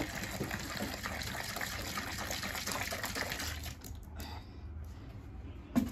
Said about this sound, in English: fill this container and then pour it.